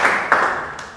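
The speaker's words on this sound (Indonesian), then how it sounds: "tepuk tangan dulu" Short burst of classroom applause from students in a lesson, a few quick claps close by fading in and out over about a second.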